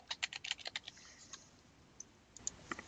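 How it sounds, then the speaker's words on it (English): Computer keyboard typing during a math lecture, a quick burst of clicky keystrokes in the first second, then a few scattered taps, faint and close with no talking. "Now let me type up y."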